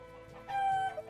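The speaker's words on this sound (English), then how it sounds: "So that's the rooster announcing that an egg has been laid." A rooster's loud, drawn-out call announcing a laid egg rises in the middle over a faint background of other fowl sounds, then trails off with a short cluck.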